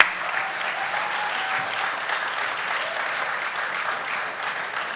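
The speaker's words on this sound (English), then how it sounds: "applause to the class of 2026" An audience applauds the graduating class of 2026 at a graduation ceremony, a continuous, even round of clapping from a large crowd, fairly loud and steady throughout.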